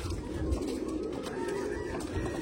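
Pigeons kept in a loft murmur in soft, low, repeated coos close by, a gentle throaty burbling over quiet background hiss.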